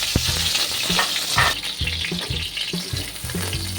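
Round-cut bitter gourd slices frying in hot oil, a dense, close sizzle with repeated clacking stirs of a spatula against the pan at a quick, uneven rhythm.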